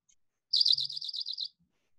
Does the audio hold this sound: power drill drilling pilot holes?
no